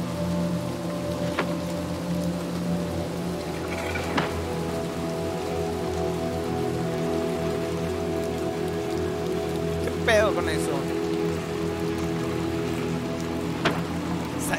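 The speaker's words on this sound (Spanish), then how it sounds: "está lloviendo." Steady rain falls in a desolate city in the Little Nightmares 2 video game, a continuous patter over a low droning ambience with a few faint knocks, while a voice briefly speaks.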